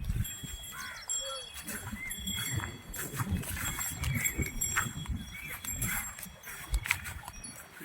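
A heavy cow that has just calved, with her newborn calf on a farm: short animal calls and rustling shuffles close by, over continuous background noise.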